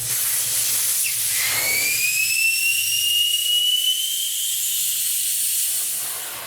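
Air rushes out of a riding mower tire as the valve core is pulled, starting with a rising whistling squeal and settling into a loud, steady hiss that tapers off slightly at the end.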